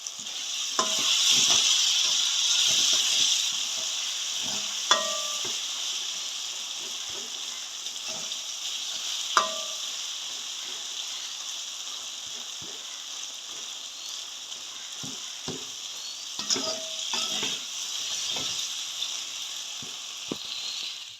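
Tomatoes sautéing and being mashed in a pan for tomato egg rice, a steady sizzle with scraping and stirring knocks from a spoon throughout, close and moderately loud with no talking.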